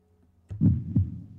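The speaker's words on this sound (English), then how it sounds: "It's a heartbeat" A heartbeat gives a loud pair of deep, muffled thumps, a lub-dub, rising out of near silence and fading into a low rumble.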